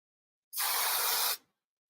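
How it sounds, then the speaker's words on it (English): Hairspray is sprayed onto a styled bridal wave in one continuous, loud hiss lasting nearly a second, starting and stopping abruptly with no talk. "So now we can spray it."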